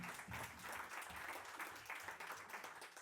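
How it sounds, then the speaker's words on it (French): Audience applause at a startup pitch competition, a steady, fairly faint wash of clapping that holds evenly for about three seconds with no talk over it. "Un tonnerre d'applaudissements."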